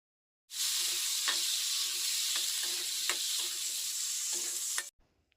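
Chili chicken frying in a hot pan with sauces, a loud continuous sizzle with steady hiss and occasional stirring scrapes, running for about four seconds before cutting off.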